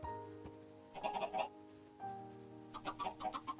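Chickens in the Minecraft video game clucking in short bursts, two clusters of quiet, choppy clucks over a faint steady game background tone.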